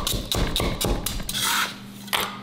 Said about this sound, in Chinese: 准备生姜1小块切成姜粒备用